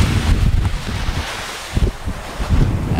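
Ocean waves wash ashore on an Aruba beach while strong wind buffets the microphone, making a rough, gusty roar with surges of surf rising and falling.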